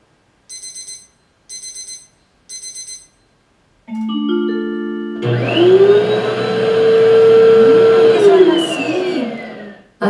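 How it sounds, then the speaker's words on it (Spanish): A few short beeps, then a vacuum cleaner starts up and runs with a loud, steady whine whose pitch rises and dips as it moves. "Aspiradora."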